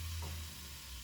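Beef sears in a pan as soy sauce goes in, giving a steady, faint, even hiss of frying with a low background hum.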